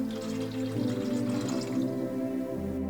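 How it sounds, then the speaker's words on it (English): Water poured into the tank of an LB 88 air humidifier, a continuous close gurgling stream with a resonant hollow tone that shifts in pitch as the tank fills, with no speech. "Fill the tank with no more than 6 liters of water."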